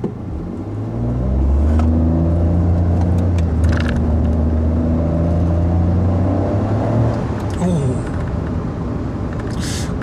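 A Honda N-WGN Custom turbo car accelerating through its paddle-shift gears, with a steady engine drone rising and holding under interior cabin rumble, heard from inside the car.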